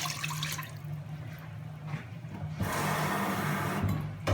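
Water pours steadily into a normal-sized bowl, 1.5 cups, a continuous splashing rush that grows fuller partway through, with faint clinks at the end.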